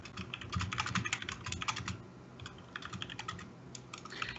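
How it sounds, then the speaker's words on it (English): Rapid clattering keystrokes on a computer keyboard during an online Magic: The Gathering Pauper match, fairly quiet and close, typed in quick irregular bursts with a brief pause midway. "Your typing is really loud."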